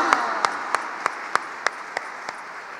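An audience at a church gala celebration claps in unison, eight steady, evenly spaced beats in a moderately loud, rhythmic pattern with no talking over them.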